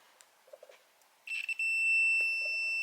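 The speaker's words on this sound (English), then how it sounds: "Okay, well I got my little continuity meter out here." A small continuity meter emits a sustained high electronic tone, starting after a few soft clicks and faint chirps, then holding steady for over a second.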